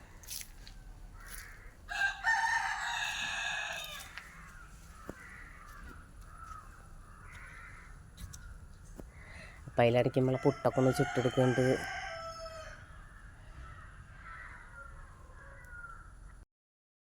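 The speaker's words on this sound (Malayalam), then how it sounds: "അത് വേറെ ഒരു വല്ലാത്തൊരു ഫീലല്ലേ ആ കോഴിയുടെ ആ കൂകൽ ഇങ്ങനെ കേൾക്കുമ്പോൾ" Two loud rooster crows ring out, one early and a longer one midway, with quieter clucking and a voice talking in the background.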